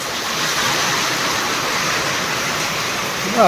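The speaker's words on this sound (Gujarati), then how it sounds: "અત્યારે વાગ્યા નવ અને વરસાદ આવ્યો" Heavy rain with wind pours down in a steady, dense roar of broadband hiss that stays loud and unchanging, with a brief sharper swell at the very end.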